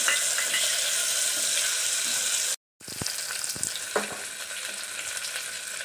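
Tomatoes and salt fry in a pan for veg pulao, giving a loud, steady sizzle that cuts out briefly, then resumes with a few stirring knocks.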